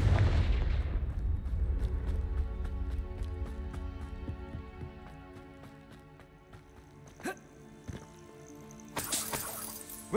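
Confringo blasting spell in Hogwarts Legacy, a loud explosive burst at the start fading into a ringing, shimmering tail, followed by smaller impacts and a second bright blast near the end.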